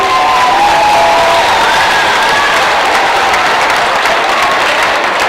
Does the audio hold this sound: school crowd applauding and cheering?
yes